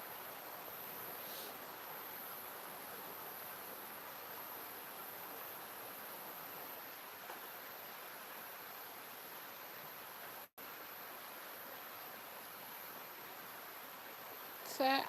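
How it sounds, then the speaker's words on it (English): A river flows steadily nearby as a constant broadband rush, even and unbroken for the whole stretch, with a brief dropout near the end and a faint rustle at the close. "That's the sound of the river you can hear."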